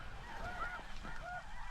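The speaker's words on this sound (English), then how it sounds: "Haven't seen a snow goose yet, but I can hear them." Snow geese honk in a North Dakota blizzard during a hunt, several repeated two-note honks from some distance over steady wind noise.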